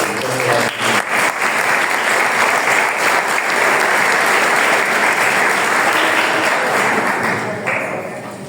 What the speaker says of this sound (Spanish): Recibimos con otro aplauso.